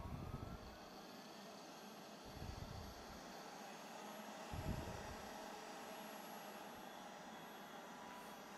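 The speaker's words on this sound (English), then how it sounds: "just to give you guys an idea of the noise, the sound level of the spindle" A Fox Alien CNC spindle kit runs steadily at about half speed, giving a continuous broadband whirring hum with a few soft low thumps near the start and middle.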